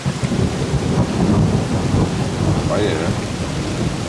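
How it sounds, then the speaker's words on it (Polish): Thunderstorm with steady rain in a Sudety mountain hunting area in September, a continuous loud wash of rainfall with low rumbling thunder throughout, and a brief spoken remark near the start. "Mam nadzieję, że jak przestanie padać, burza przejdzie"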